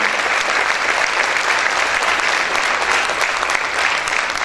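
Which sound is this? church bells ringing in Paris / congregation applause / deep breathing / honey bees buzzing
congregation applause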